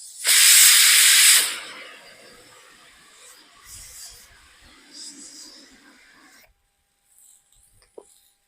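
A pressure cooker cooking goat boti curry lets out a loud sharp whistle of venting steam, then a softer fading hiss for a few seconds before near silence and a faint click.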